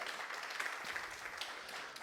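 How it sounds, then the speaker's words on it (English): Church congregation applauding their administrator, a steady broadband patter of many hands clapping throughout, moderately loud and even, with no talk over it. "Let's give her a big round of applause."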